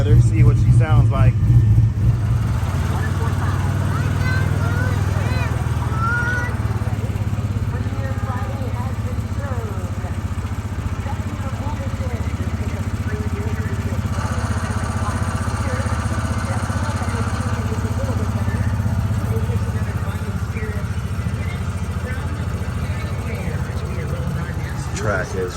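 A street car's engine idles steadily and loudly outdoors in rainy weather at a car meet, a constant low rumble that runs the whole time, with people talking faintly in the background.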